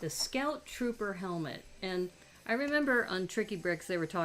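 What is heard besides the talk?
No everyday noise stands out behind the speech.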